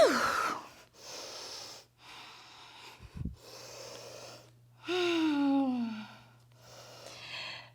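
Audible exhalations during an intermediate arm-balance vinyasa yoga flow, with several close breath bursts and one drawn-out, voiced, sigh-like exhale near the middle, heard alone without talk.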